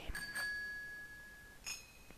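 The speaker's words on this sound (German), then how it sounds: "Das war die Klingel." A bright electronic ding-dong doorbell chime in the video game Vampire: The Masquerade – Bloodlines rings out, a two-tone bell tone that sustains briefly, followed by another short chime a moment later against a quiet background.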